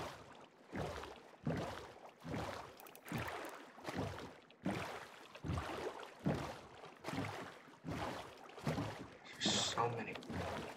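Rhythmic paddle strokes of a boat in a video game splash through water, about a dozen even pulses roughly a second apart, close and steady.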